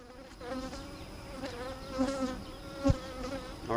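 Honey bees buzzing around an open beehive during an inspection, a close, continuous droning hum with shifting pitch as individual bees pass near, plus a brief thump.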